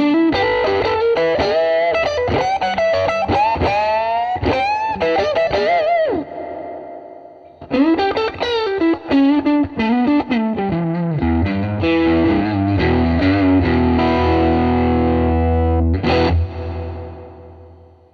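An electric guitar plays through a TC Electronic Hall of Fame reverb pedal, slightly driven chords and notes ringing out in two phrases with a washing, spring-like reverb tail that blooms and fades when the playing stops.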